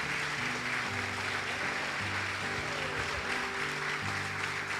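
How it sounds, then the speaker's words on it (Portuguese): Steady applause from a church congregation, continuous and fairly loud, with sustained organ or keyboard chords playing beneath it. "Fique à vontade para aplaudir Jesus."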